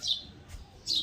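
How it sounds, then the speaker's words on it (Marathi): Two short bursts of high, bright morning chirping from sparrows perched on an overhead wire, separated by a brief quiet gap, fairly close and clear. "आज चिमण्यांचं वातावरण आवाज येतो आहे बघा"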